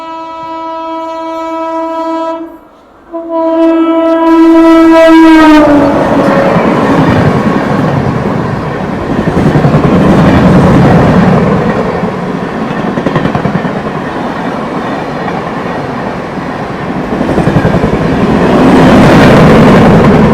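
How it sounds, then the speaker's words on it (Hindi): The Pune–Danapur superfast express sounds a long, loud horn with a brief break, then thunders past close by with a sustained rumbling roar and rattling wheels that lasts for many seconds. "पीछे देखिए ये आ रही है दानापुर सुपरफास्ट एक्सप्रेस ट्रेन"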